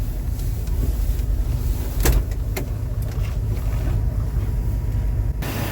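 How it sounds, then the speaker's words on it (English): A 1976 Toyota FJ40 with a five-speed and a single serpentine belt idles outdoors, giving a steady low rumble with a few faint clicks and some wind noise; no one speaks. "So now we're going to go take a picture of the engine running."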